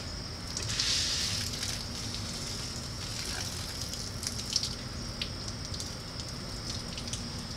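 Water gushes steadily from an overpressurized hose in a continuous hiss, with faint splashes and rumble underneath.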